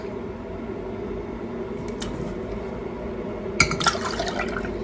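Milk poured from a cup into a bowl for a homemade baking mix in a home kitchen, a steady liquid splash throughout with a brief brighter clink of glass near the end.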